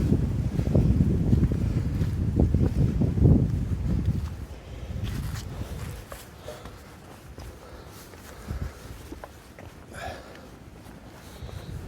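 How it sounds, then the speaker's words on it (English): Wind blowing on a rocky mountain hiking trail on the Appalachian Trail in early November, a loud rushing gust for the first few seconds that eases into a softer, steadier breeze with occasional light footsteps. "that's the wind"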